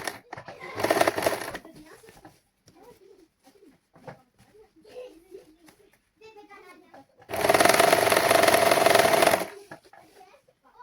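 A sewing machine stitches a saree blouse in two loud, steady bursts, one short near the start and a longer one later, with someone talking quietly between them.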